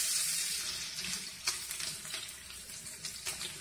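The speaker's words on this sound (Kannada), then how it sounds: "ಪ್ಯಾನ್ ಎಲ್ಲ ಹೀಟ್ ಆದಮೇಲೆ ಅದು ಫಸ್ಟ್ ಏನು ಹಾಕಬೇಕು ಅಂದರೆ ಜಜ್ಜಿಕೊಂಡಿರೋ ಗಾರ್ಲಿಕ್ನ ಹಾಕಬೇಕು." Crushed garlic fries in a heated pan with a quiet, even sizzle, broken by a few light taps and stirring clicks nearby and no speech.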